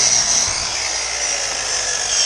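A power saw runs through a board with a steady, loud high-pitched whine that holds for the whole cut without a break.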